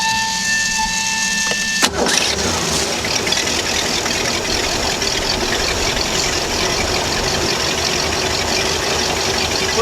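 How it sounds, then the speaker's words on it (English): A boat engine, newly fitted with a Velvet Drive transmission, cranks with a sharp start and then settles into a loud, steady, close running rumble that carries on to the end. "Let's fire it up one more time."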